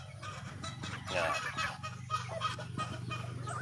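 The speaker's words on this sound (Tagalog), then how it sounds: "Ayan na po ang ating mga alagang manok." Pet chickens cluck and chatter close by during a morning feeding, a busy overlapping flock sound throughout, with a person talking over it.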